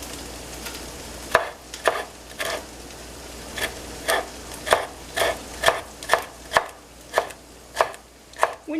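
A knife chops jalapeno pepper on a cutting board for turkey chili, giving a steady run of crisp, close knocks that speed into an even rhythm against a low kitchen hum.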